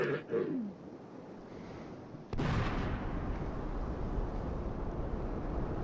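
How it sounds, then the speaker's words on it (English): A bomb bursts with a sudden sharp blast in an animated Suez Canal scene, followed by a sustained broad rushing roar like a surging wave; a voice is heard briefly before the blast. "There goes the bomb. Here comes the wave."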